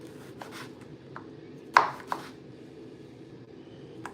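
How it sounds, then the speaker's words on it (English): A knife chopping potato chunks on a cutting board for a garlic and herb soup, heard as a few scattered sharp taps with one louder strike near the middle, against a quiet kitchen background. "And it's chopping it up nice and easy."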